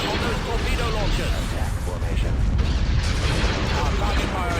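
Capital ships pound torpedo launchers with cannon fire in a Star Wars: Empire at War space battle, a dense, rumbling barrage of booming blasts and mechanical clatter, with a voice talking over the din.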